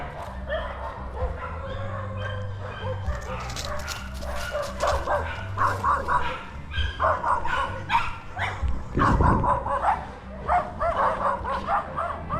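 Several dogs bark and yip on a neighborhood walk, a mix of distant and nearer barks in irregular bursts over traffic and street ambience, with occasional talk and footsteps.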